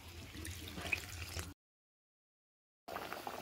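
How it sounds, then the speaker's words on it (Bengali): Water is poured into a pot of potatoes and poppy-seed paste as they are set to boil, giving a soft, faint splashing trickle close by, broken by a stretch of complete silence before the sound returns briefly. "এবার আলুটা সেদ্ধ হওয়ার মতো জলটা দেব।"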